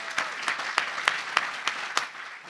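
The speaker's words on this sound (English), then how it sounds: "I'd like to give them a round of applause." A modest audience claps for conference organizers at an innovation summit, sparse individual hand claps popping out over a softer bed of applause, fairly close and steady, then easing slightly.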